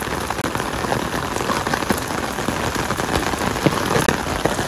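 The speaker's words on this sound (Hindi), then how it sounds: "और तेज बारिश" Heavy rain in Multan pours down steadily and densely, close and continuous, with scattered louder drops pattering on surfaces and no voices.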